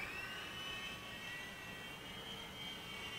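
An RC helicopter lifts off and flies simple circles, giving a steady, high-pitched whining motor and rotor drone that holds close and fairly loud without a break.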